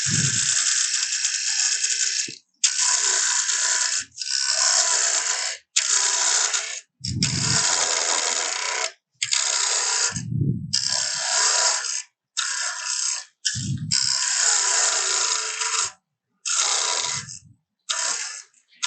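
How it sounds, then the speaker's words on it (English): A small bowl gouge cuts a wooden mortar spinning on a lathe, giving close, bright scraping bursts separated by short pauses, with brief low rumbles in between. "So I'm going to grab me my small bowl gouge and just clean that up right there."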